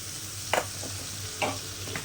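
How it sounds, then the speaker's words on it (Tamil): Chopped tomato sautéing in a pan while cooking a country chicken fry, soft sizzling with a few brief stirring scrapes over a low steady hum. "போட்டு ஒரு நல்ல ஒரு வணக்கிக்கலாம்."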